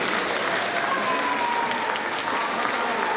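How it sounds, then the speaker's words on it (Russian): Steady, dense applause from a large concert audience, continuous throughout with a faint crowd murmur underneath. "Ваши бурные аплодисменты"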